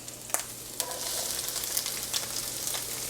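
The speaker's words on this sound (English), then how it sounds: "My oil is hot, so I'm going to go ahead and add my red peppers. Ooh, hear the sizzle." Red peppers and onions sizzle in hot oil in a pan, a loud steady hiss that runs throughout, broken by a few sharp clicks of stirring.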